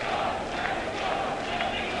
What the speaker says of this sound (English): See the crowd chanting now, trying to urge on the Mexican team.